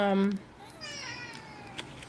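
A normal-sized cat lets out a drawn-out, wavering cry after a brief voice at the very start. It sounds close and clear against a quiet room.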